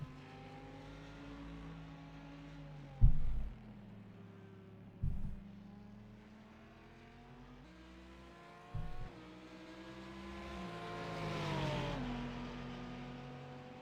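A prototype race car at Sebring during an American Sports Car Series race, its engine holding a steady harmonic drone with sharp thumps as it shifts, then a rising wail as the revs climb near the end.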